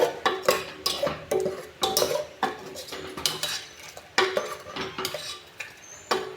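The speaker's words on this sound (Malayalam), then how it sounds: "ഇതിനെ യോജിപ്പിച്ചെടുക്കാം നമുക്ക് ഇളക്കി നന്നായി ഇളക്കി കൊടുക്കുക ഇതുപോലെ" A taro leaf and jackfruit seed curry being stirred in a pot, with a ladle repeatedly scraping and clinking against the metal in an irregular rhythm. The sounds are close and moderately loud, with no talk.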